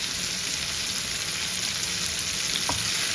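Fresh curry leaves sizzle in hot oil for a capsicum pickle, a loud, close, unbroken frying hiss with a faint clink partway through and no talking.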